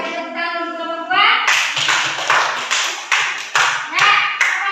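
A classroom of Indonesian eighth-grade students applauds a group after its presentation; after a brief voice, a burst of brisk, close hand clapping starts and continues loud and rhythmic to the end.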